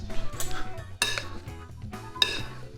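A utensil stirs hot boiled potatoes into a potato salad dressing in a bowl, with several distinct clinks and scrapes close by and no talk.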